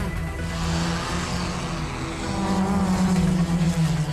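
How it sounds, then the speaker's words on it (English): An Airspeeder flying car prototype races past at Goodwood Aerodrome, its electric motors giving a droning, revving whine that builds and shifts in pitch as it draws closer and grows louder. "we've been demonstrating our flying car prototype for the public"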